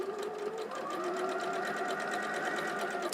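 A sewing machine stitches quilt-block fabric cut on the bias, its rapid, steady needle rhythm running continuously and close by, with the fabric guided only lightly.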